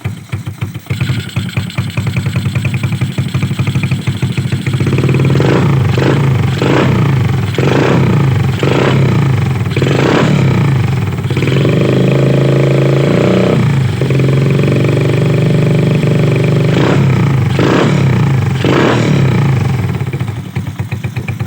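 Motorcycle engine fitted with an upgraded KOSO 30mm carburetor, replacing a 26mm carb, running loud and close, idling then blipped through a series of short throttle revs with one longer sustained rise in the middle.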